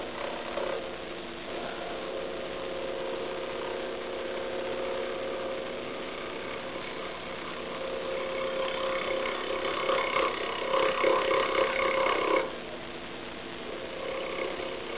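A wood lathe spins a twisted peppermill blank as a tool takes light cuts, a moderate steady hum with scraping and rasping that thickens midway and then cuts off sharply.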